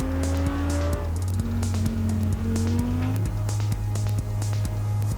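Audi R8 Spider 525 hp mid-engine convertible lapping a race track, its engine loud and close, revving and shifting through gears with rising and falling pitch, steady and continuous throughout.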